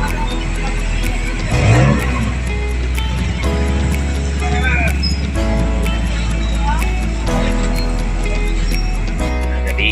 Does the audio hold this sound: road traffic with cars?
yes